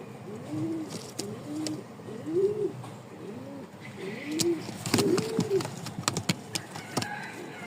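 Pigeons coo repeatedly in soft, rounded phrases, with a few clicks and knocks of movement nearby and faint background noise.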